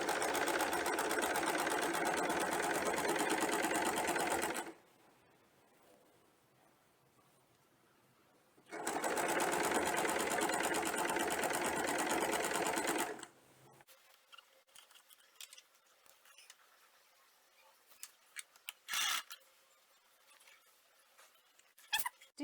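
Sewing machine stitching pin tucks in fabric, two long steady runs of close, loud whirring separated by a pause, followed by quieter scattered clicks and handling noises.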